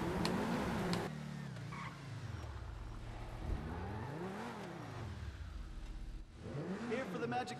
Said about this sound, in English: driving the Progen T20 Super